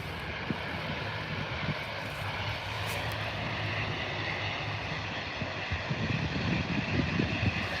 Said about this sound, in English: There he goes, that massive wingspan of the A350